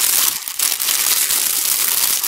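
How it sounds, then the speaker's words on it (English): Paper being crumpled by hand for a craft project, a close, loud, continuous crinkling rustle lasting a couple of seconds with no talking. "I'm going to crumple it up"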